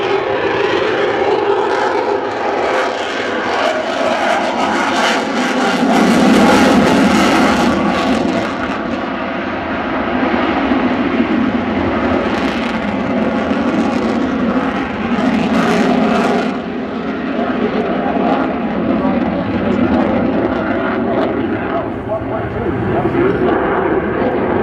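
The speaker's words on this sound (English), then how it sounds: "he'll be cleaning the aircraft up and accelerating away from this" A military jet at an air show cleans up after a slow high-alpha pass and accelerates away without afterburner, a loud, continuous roaring engine wash that swells and shifts, with a commentator talking over it throughout.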